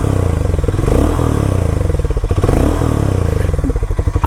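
A Harley-Davidson X440 motorcycle revs up close by as the throttle is blipped, its loud pulsing exhaust note rising and falling over a few seconds.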